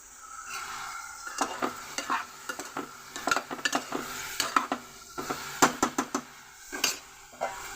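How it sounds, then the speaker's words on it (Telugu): Eggplant pieces frying in a pan with other chopped pieces, stirred with a utensil, giving repeated sharp metallic scrapes and clacks in an uneven rhythm over a light, close sizzle. "వెంటనే వంకాయ ముక్కలు కూడా వేసేస్తే కొంచెం బాగా మగ్గుతాయండి"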